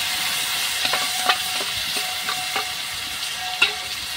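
Fried potatoes sizzle in a pan as turmeric powder and chilli paste go in, a steady close hiss broken by repeated rhythmic scraping stirs and light clinks, with no one speaking.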